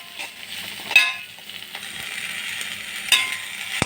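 Chopped okra sautéing in a pan, a steady soft sizzle with a few sharp clinks of a spatula or spoon stirring against the pan, close and fairly loud, no talking.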